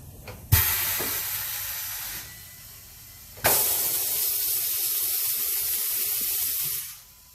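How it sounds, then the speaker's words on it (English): A loud, steady hiss of escaping air, bursting in twice after quieter stretches, then cutting off abruptly; close and harsh, with no voices. "You can hear the leak on my compressor."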